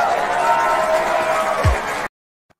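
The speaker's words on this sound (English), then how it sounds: "What's the applause button for Charlene?" A canned applause and crowd-cheer sound effect, fired from a button in a comedy radio show's studio, washes in at full volume for about two seconds and then cuts off abruptly.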